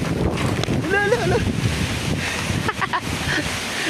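Strong Signal No. 5 typhoon wind roars outdoors as a loud, steady rush with gusty buffeting, mixed with surf-like noise from thrashing trees; a faint voice briefly surfaces within the din.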